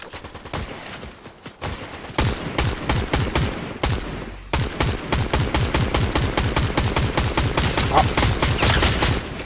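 Rapid bursts of automatic gunfire from a Fortnite squad match crack loudly in dense, rhythmic volleys, nearly unbroken after a brief opening pause, with players occasionally talking.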